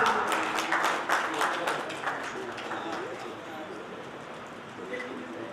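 Community members at a Jain society meeting in Alwar applaud to welcome a guest, a loud dense patter of clapping that gradually thins and fades, with voices murmuring underneath.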